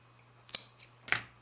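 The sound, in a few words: scissors cutting yarn after crochet slip stitch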